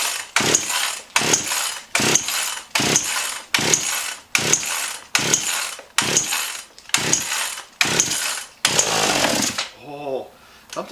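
An old chainsaw is cold-started with the choke on and compression release, giving about eleven sharp, evenly spaced pull-cord rasps, then a brief sputtering catch as it tries to fire, close and loud.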